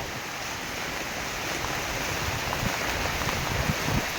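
Heavy, steady rain pours down in a storm, a continuous broadband wash with gusty wind, close and loud throughout, no voices.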